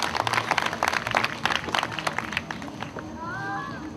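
Audience applause at an outdoor cultural Sunday event in Aquila, scattered claps rising and falling under crowd noise before fading out, with a brief whistle-like tone near the end.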